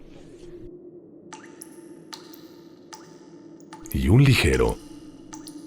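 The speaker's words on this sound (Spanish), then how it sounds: "pero constante goteo de agua" Water drips slowly and steadily inside a house at night, each sharp drop ticking clearly under a narrator's voice telling a horror story.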